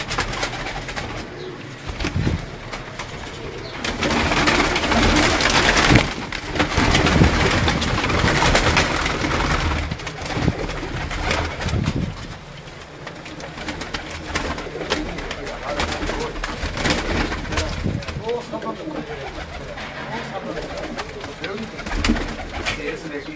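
Kamgar pigeons coo softly amid a busy loft, low murmuring calls repeating under steady rustling and handling noise, with people talking nearby.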